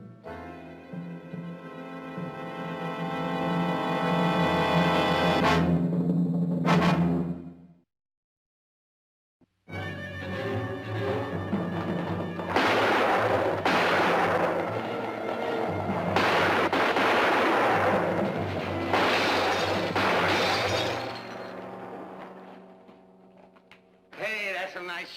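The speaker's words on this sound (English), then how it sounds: "Hey, that's some nice shooting." Loud gunfire crackles through a Western drama scene, layered over music and other sound, with a brief silent gap before dense shooting resumes.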